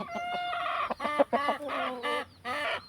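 A native country hen clucks and squawks in a series of short, bursting calls, fairly close and loud, with brief pauses between phrases.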